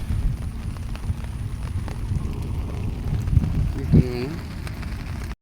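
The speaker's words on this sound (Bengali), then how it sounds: "অনেক বৃষ্টি হচ্ছে" Heavy rain falls outdoors beside the Buriganga river, a steady broadband hiss of drops on surfaces with a brief voice-like sound near the end.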